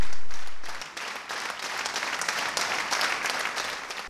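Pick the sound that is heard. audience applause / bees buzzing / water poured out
audience applause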